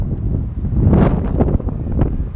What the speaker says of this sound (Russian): здесь сильный ветер, как это обычно бывает